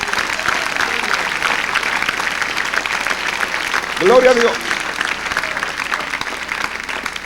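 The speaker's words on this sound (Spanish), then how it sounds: "Denle un aplauso al Señor y luego le leo esto." Church congregation applauding during a sermon, a continuous wash of clapping across the whole stretch, with a voice briefly calling out praise partway through.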